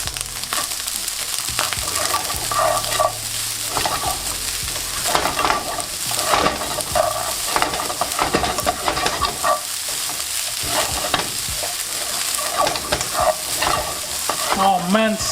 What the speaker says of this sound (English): Add in our beautiful chicken, dried parsley, and give that a mix.